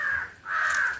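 Two loud, harsh crow caws close by, a short one followed by a longer drawn-out call, with no talk.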